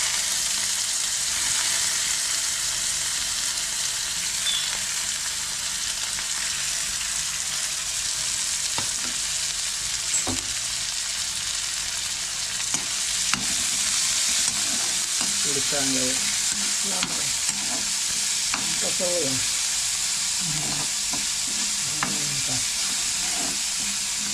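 Chopped onion frying in hot oil in a pan, a continuous loud sizzle with intermittent scraping and clinking as it is stirred, no voices present.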